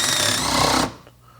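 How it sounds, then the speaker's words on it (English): A power drill with a 3/4 inch spade bit bores into a stucco building wall, a loud, harsh grinding whine that runs for under a second before cutting off sharply, with no one speaking. "We're going to drill a hole."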